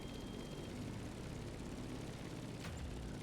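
Steady, droning airplane engine hum from The Crew Motorfest racing game, a constant broad roar with a faint whoosh near the end, no voices.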